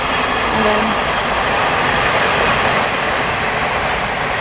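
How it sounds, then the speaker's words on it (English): A train passes nearby with a loud, continuous rumbling roar that stays steady throughout and covers a brief spoken voice. "excuse the train there"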